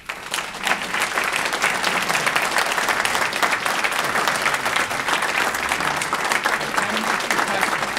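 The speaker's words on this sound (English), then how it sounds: "thank you for that warm applause" An audience at an economic development gathering gives a warm standing ovation, a loud, sustained roar of many hands clapping, with faint voices mixed in beneath the applause.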